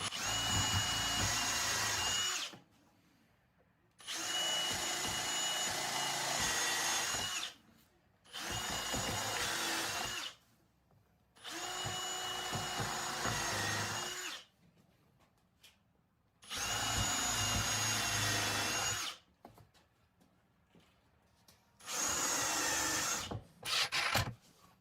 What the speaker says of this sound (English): I am going to put some screws in this also.